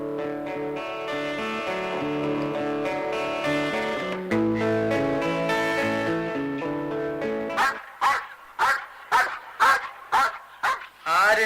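A dog barks in a quick run of sharp, loud yaps near the end, following a stretch of music.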